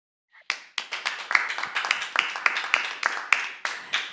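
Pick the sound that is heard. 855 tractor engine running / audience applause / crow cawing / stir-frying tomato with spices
audience applause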